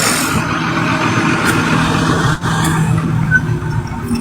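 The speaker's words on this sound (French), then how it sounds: "C'est quel deux camions, ça, là?" Two trucks roll past on a road, producing a steady loud broadband rumble and roar that stays close for the whole stretch. There is no talking.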